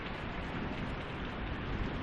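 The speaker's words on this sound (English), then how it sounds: "As you can see, it's raining." Steady rain inside the VR game Squingle, heard from within a house, falls as a dense, even hiss and patter with no pauses, fairly quiet and alone with no talking.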